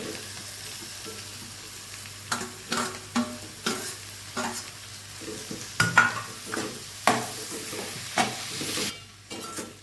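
Ginger garlic paste and ivy gourd frying in a pan, a soft steady sizzle broken by a run of rhythmic spoon scrapes and knocks against the pan, close by.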